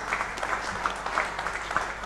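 Audience applause at an award ceremony for a trophy presentation, steady soft clapping from a crowd heard from some distance, with no talk over it.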